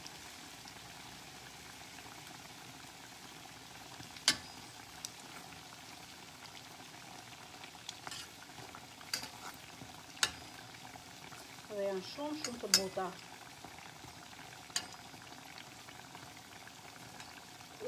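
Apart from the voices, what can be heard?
petulla dough fritters frying in oil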